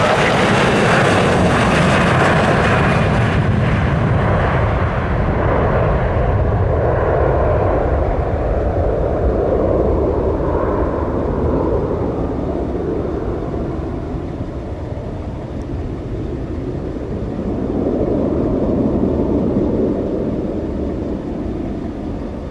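A fixed-wing airplane departs runway 8 right at Ford Airport in Grand Rapids. The engine roar is loud and close at first, then thins and fades steadily as the aircraft climbs away, with a slight swell near the end.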